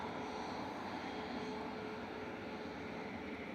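A Singapore Airlines Airbus A350-900 lines up to depart at Manchester Airport, its engines giving a steady, distant broadband roar that holds level throughout with no voices.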